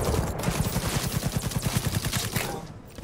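Rapid run of evenly spaced gun blasts from a shotgun in Cyberpunk 2077, loud and close, firing steadily for over two seconds before trailing off.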